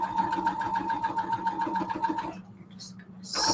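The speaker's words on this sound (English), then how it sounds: "Just gonna sew down this seam" A sewing machine stitching down a seam on white fabric for a fabric storage cube, running in a steady rapid mechanical rhythm for about two seconds before stopping, followed by a couple of short rustling handling sounds.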